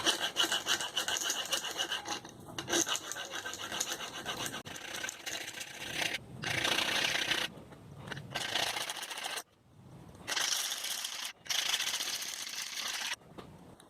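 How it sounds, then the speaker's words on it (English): A hand file rasps back and forth over a broken steel knife tip in long, gritty strokes, steady and close, with brief pauses between runs of strokes. "I've pretty much just done about a minute's worth of filing there"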